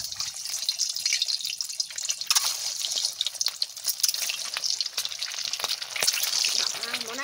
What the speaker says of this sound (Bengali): তেল দিয়ে দিলাম, গরম হয়ে গেছে, ডিম ভাজা করব